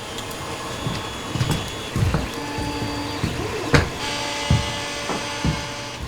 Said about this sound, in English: There's 3 3D printers going on right now